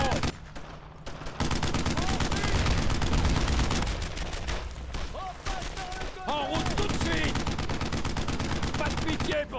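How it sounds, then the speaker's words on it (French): Suppressive gunfire in the video game Brothers in Arms: Earned in Blood: dense, continuous bursts of rifle and machine-gun fire, loud and close, rattling almost without pause for the whole stretch while voices shout over the din. "Troisième escouade, à moi, tire de suppression!"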